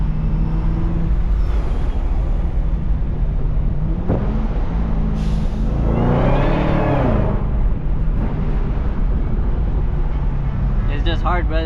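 A Cadillac CTS-V pulls hard on a city street, its engine note climbing with a rising supercharger whine over steady road and cabin noise, heard from inside the car.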